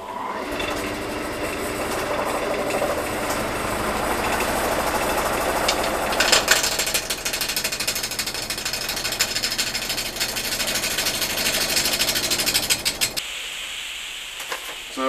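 A wood lathe spins a roughly octagonal bowl blank mounted between centres, a loud rattling, vibrating roar that pulses and surges, then drops off sharply near the end, with no talk.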